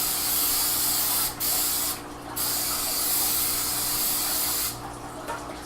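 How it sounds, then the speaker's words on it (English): Coconut cooking spray hisses onto cake pans in long, loud, close bursts, one broken by short pauses, with a final quieter stretch after the spraying stops. "So we're just going to spray our pans."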